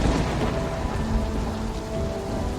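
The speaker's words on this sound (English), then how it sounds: "Then, a distant crack of thunder," Torrential rain pours in a steady wash in a thunderstorm sound effect, with a low rumble of distant thunder underneath, continuous and fairly quiet with no voices.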